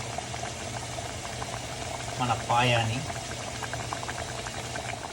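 Goat paya bone soup boiling hard in a pot, a constant bubbling and simmering roar that continues throughout, with a brief spoken phrase over it midway.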